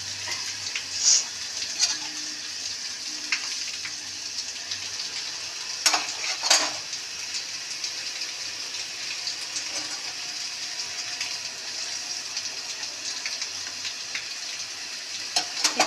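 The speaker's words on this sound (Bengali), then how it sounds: "মশলাটা একটু ফুটে যায়।" Spices for a parse fish curry sizzle and bubble in a pan, a steady close frying hiss with a few louder crackles and stirring sounds, no voices.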